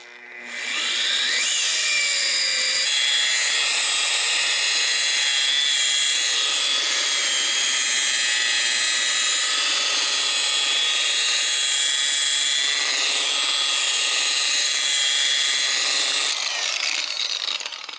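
Rotary polisher buffer for car detailing runs steadily at low RPM, a continuous whirring hum with a faint high whine, loud and unbroken throughout.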